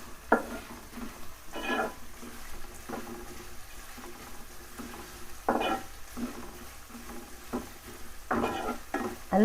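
Finely chopped large onions sautéing in a pan for a Catla fish fry, a steady soft sizzle under repeated louder bursts as a spoon stirs and scrapes through them.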